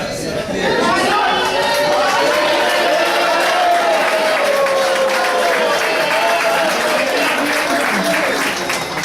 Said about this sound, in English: Can every club cheer for their contestants?